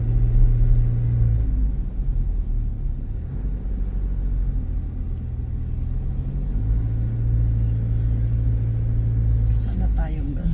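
A car drives along a road near the Ternate–Kaybiang Tunnel in Nasugbu, Batangas, its engine a steady low rumble heard from inside the cabin as people talk over it.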